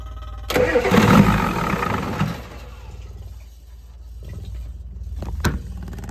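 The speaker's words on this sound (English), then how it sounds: "Let's see if she'll fire back up." A 1988 Ford F350 with a 7.3 IDI diesel cranks loudly for about two seconds, then falls quiet, then gives a few short, weaker cranking attempts with a sharp click near the end.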